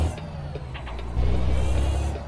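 A deep, steady truck engine in American Truck Simulator rumbles up close, growing heavier and louder partway through as it pulls under load.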